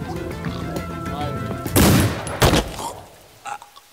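A gunshot from The Walking Dead: Michonne hits as a loud, close blast after tonal game audio, followed by a second sharp crack and a fainter report near the end, with a voice talking over the opening.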